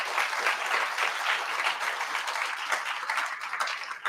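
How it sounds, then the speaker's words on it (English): A room of people at a high school academic and sports awards ceremony claps in sustained, dense applause that holds steady throughout. "But go ahead and give them a round of applause."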